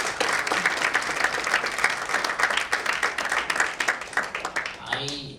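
Audience applause fills a hall at a candidate forum, dense and steady clapping near and loud; toward the end it thins and a voice begins speaking over the fading claps.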